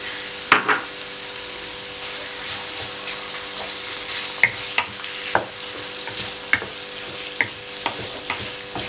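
Chicken pieces fry with garlic in a pan over medium flame, a steady sizzle broken by repeated scraping and knocking of a spoon stirring against the pan, close and without talk.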